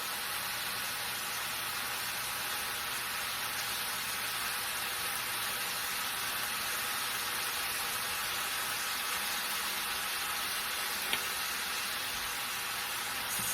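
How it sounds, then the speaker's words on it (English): Garlic and onion sauteing in a pan, a soft, even sizzling hiss that holds steady throughout without pauses. "I love to smell garlic and onion sauteing"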